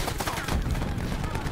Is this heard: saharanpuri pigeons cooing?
no